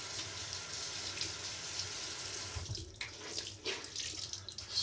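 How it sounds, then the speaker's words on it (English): Water runs steadily from a sink tap during face washing, a close continuous hiss with brief splashing breaks near the end. "Okay, I'll just wash off my face."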